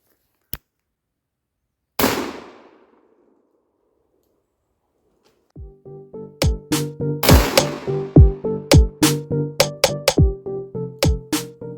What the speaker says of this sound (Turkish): Allah şükür vurduk bir tane. Güzel bir vuruştu.